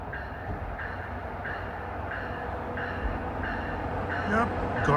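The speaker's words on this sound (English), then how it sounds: "Yep, garbage, but at least it sounds like an EMD when it starts up." A New Jersey Transit EMD diesel locomotive on a garbage train starts up, its engine throbbing in steady rhythmic pulses that swell louder toward the end, with a voice talking over it.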